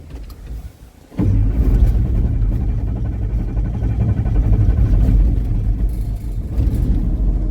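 A 2014 Ford F-150 with a 5.0L Coyote V8 and a weak battery cranks briefly, then catches and settles into a loud, steady, deep running rumble that continues to the end.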